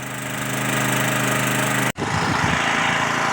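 A portable generator runs loud and steady with a close engine drone, briefly dropping out and then resuming with a rougher, lower rumble, no voices.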